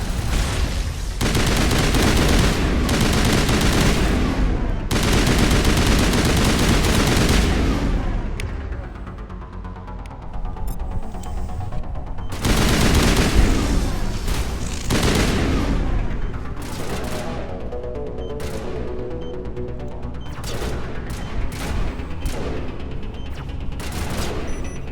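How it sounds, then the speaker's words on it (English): Rocket explosions and gunfire in the Mass Effect game, with loud, dense bursts of shots and booming blasts throughout, some sharp single cracks, a brief lull midway, and continuous battle noise. "Oh, another rocket."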